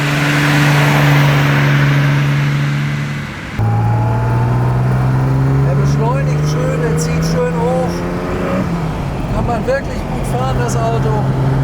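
A fully restored dark blue 1970 Mercedes 280 SL Pagode with a four-speed gearbox accelerates, its engine rising in pitch through the gears, heard from inside the car alongside a steady drone.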